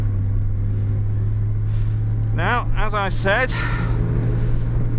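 Toyota AE86 heading down the Mt Akina downhill run, its engine a steady low drone throughout while someone talks over it.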